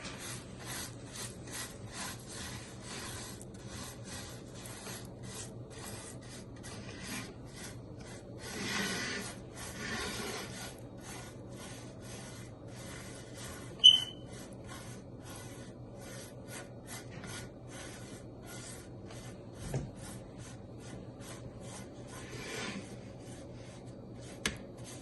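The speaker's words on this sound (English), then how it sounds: "Make sure you spread this evenly" A cheesecake crust mixture scrapes and rubs softly as it is pressed and spread evenly across the bottom of a pan, with a few faint clicks and knocks between the strokes.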